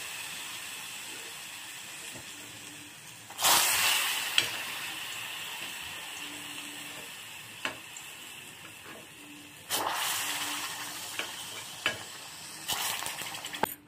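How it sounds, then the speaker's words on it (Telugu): Vadiyalu frying in a pan burst into sizzling a few times, each loud hiss fading into a quieter crackle, with a faint kitchen background in between. "అలాగే మనం మిగతా వడియాలు కూడా వేయించుకోవాలి."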